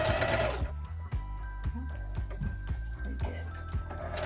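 A sewing machine stitches an elastic tube dress, its needle thumping in a steady rapid rhythm with a faint motor whine, close and continuous after a brief blurred start.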